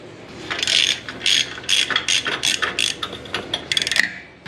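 A ratchet wrench clicks in quick bursts while loosening the exhaust pipe bolts on a Harley-Davidson Softail, Dyna or Sportster motorcycle, close and fairly loud, with no talking.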